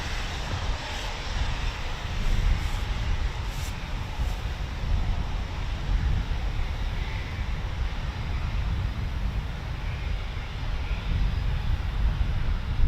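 Eurofighter Typhoon FGR4 jet at night at RAF Coningsby, a steady broad roar of engine noise holding constant throughout, moderately loud and continuous with no voices.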